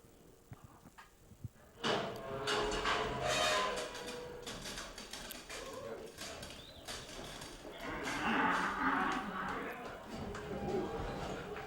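A young bull calf bucks at a cattle event, with rumbling livestock commotion, scuffling and shifting arena noise swelling after a quiet start, and voices talking over it.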